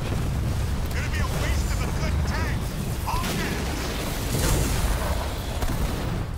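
Gunfire and explosive impacts pound through solid rock in the Halo Wars 2 battle, a loud, continuous barrage of booms and crackling blasts close by, with no clear gaps.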